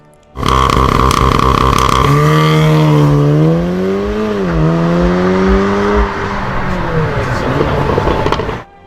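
A Volkswagen GTI MK7 engine revs up close and loud, its pitch climbing and falling through several surges before settling back down.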